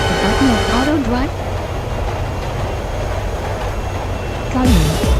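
A moving subway train gives a steady rumbling rattle beneath a burst of voices at the start and again at the end.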